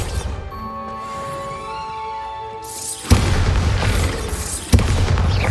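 A Bombarda spell explosion in the Hogwarts Legacy video game, with two loud booming blasts that cut sharply into a quieter layer of sustained tones and noise.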